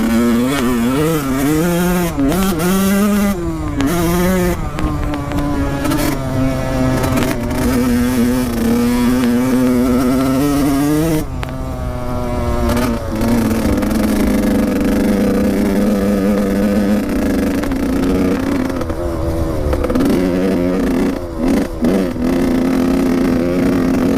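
A Suzuki 85RM two-stroke motocross bike is ridden, its engine loud and close throughout, revving up and down in rising and falling whines with a continuous buzzy drone.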